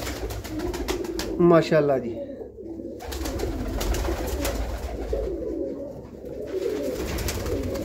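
Pigeons coo in a loft where young birds are being raised, the low calls running throughout under a man's speech, with a brief louder burst of bird calls early on.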